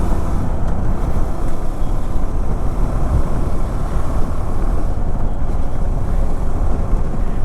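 A new KTM 390 Adventure motorcycle in its running-in period is ridden, giving a loud, constant low engine rumble buried in heavy wind noise throughout.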